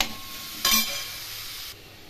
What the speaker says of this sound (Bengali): ভালো করে নেড়ে চেড়ে রান্না করে নেব।